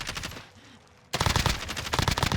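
Rapid automatic gunfire in Warzone rips out at close range after a brief lull, loud dense bursts as shots punch through walls.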